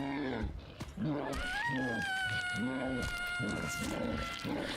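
A series of drawn-out cat meows and yowls in the video game Cold Steel 2 repeats steadily, loud and close, with a higher whining tone running underneath and electronic game sounds.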